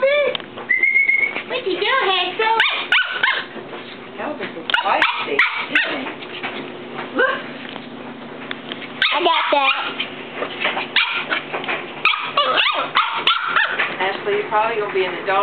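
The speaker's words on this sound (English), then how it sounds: "that is Elvis doing the barking." Puppies bark repeatedly in short clusters nearby, mixed with yips and whimpers, while people talk over them.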